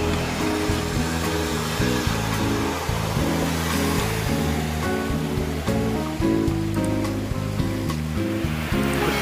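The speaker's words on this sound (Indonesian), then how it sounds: "deras sekali hujannya" Heavy tropical rain pours down in Bali, a dense, loud, continuous roar of water with an irregular low drumming underneath that lasts throughout.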